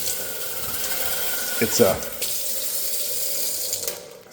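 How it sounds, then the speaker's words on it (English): Water runs steadily from a kitchen pot filler faucet, a hissing stream with a brief gurgling splash midway, while a person talks over it. "But it has a pot filler."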